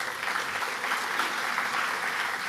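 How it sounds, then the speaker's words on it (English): A crowd claps for a panel at an arts event, a brief, even burst of applause that stays full and continuous with no talking. "A big round of applause for these guys."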